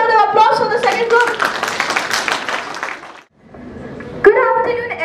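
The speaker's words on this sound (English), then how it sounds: "Can we have a huge round of applause for the second group?" An audience claps in a burst of applause for a student group at a school event, lasting a few seconds before fading, with voices speaking before and after.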